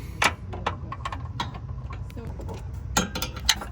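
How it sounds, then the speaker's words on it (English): A bolt on a car's downpipe of a VR30 engine turned by hand, giving close, irregular metallic clicks and ratchety ticks over a low rumble. "You can just unscrew it now."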